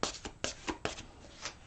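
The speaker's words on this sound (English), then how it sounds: "I'm just going to shuffle until they feel right." Tarot cards being shuffled by hand, a run of close, crisp riffling bursts with short pauses between them, no talking.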